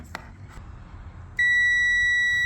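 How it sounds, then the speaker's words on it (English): A small clicking noise, then a loud, steady electronic beep from a Chevrolet Traverse brake controller starts and holds without a break, close by. "It's coming up with negative beeping on this one"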